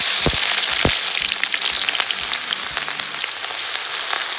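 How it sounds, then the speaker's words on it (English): Onions frying in hot oil for Gambian-style scrambled egg, a steady broadband sizzle filling the pan close up, with a few sharp crackles and spatters near the start and no voices. "First we're going to fry the onions."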